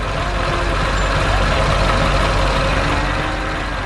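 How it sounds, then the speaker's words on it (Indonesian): A heavy diesel engine rumbles loudly and steadily nearby, a constant mechanical drone with no pauses. "ada mesin konstruksi kuning yang sedang bekerja keras"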